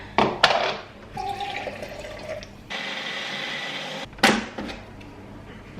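Liquid pours into homemade sweet potato baby food in a kitchen, a few splashy bursts and a short steady pour among light clatter of containers.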